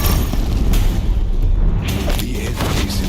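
Deathbringer war machines in Horizon Zero Dawn, a video game, fire explosive shots that land as heavy, rumbling booms and thuds near a bridge, under a constant low roar of battle noise.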